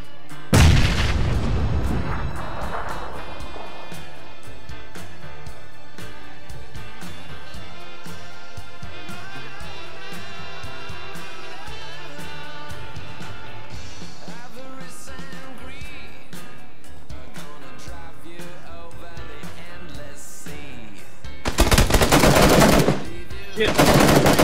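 Gunfire rattles almost continuously through a firefight in the video game PUBG, with dense automatic bursts and shots. A loud, sharp blast near the end fits a grenade explosion.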